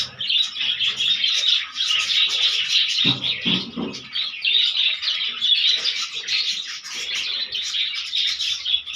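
Small birds with chicks in a breeding box chirp continuously in a dense, high twittering chorus, close by and fairly loud, with a few brief lower thumps or knocks partway through.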